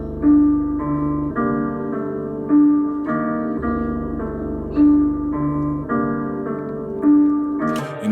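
Keyscapes wash preset lead with EQ and compression, a soft sustained keyboard melody repeating a short pattern in steady phrases, clean and alone at moderate loudness.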